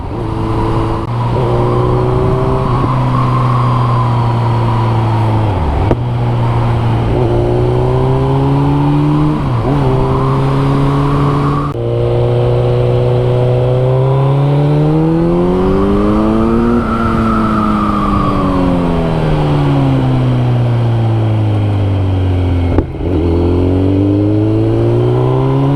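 Four-cylinder motorcycle engine droning close while riding through lowland roads near the sea, revs rising and falling smoothly through several gear shifts with brief dips between them, loud and continuous with no talk.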